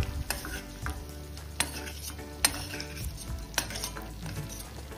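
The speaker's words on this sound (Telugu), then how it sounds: "ఇలాచీ కిస్మిస్ని కూడా వేసి ఫ్రై చేసేసుకుందాం." Cardamom and raisins frying in ghee in a pan for moong dal kheer, with a steady close sizzle, stirring scrapes and a few sharp clinks of a utensil against the pan.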